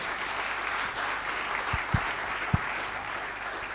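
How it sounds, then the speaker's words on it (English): An audience at a book reading session claps steadily, a dense even patter of applause at moderate level, with a few louder thumps near the end. "give you a huge round of applause for Pooja Bhatt"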